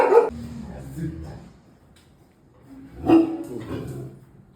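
A young Rajapalayam, an Indian hunting breed, lets out a couple of short barks and whimpering yips close by, with voices around it.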